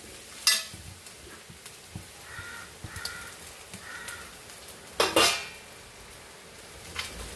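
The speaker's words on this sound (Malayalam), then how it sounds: "ഇപ്പം വറുത്തുകൊണ്ടിരിക്കുകയാണ് ഇപ്പം വറുക വറുക നല്ലൊന്ന് വറുക്കണേ" Grated coconut frying in coconut oil for chena erissery: a soft steady sizzle with sharp clinks and scrapes of a spoon against the pan, plus intermittent crow caws outdoors nearby.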